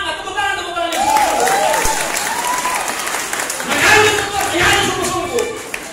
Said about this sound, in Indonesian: Semangat, tepuk tangan.